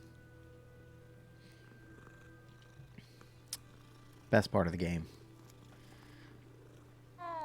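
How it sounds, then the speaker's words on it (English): A cat in the video game Hogwarts Legacy gives a brief burst of purring and mewing sounds midway through, standing out over a steady low game hum, with a voice talking briefly before it. "Always gotta stop and pet the cat."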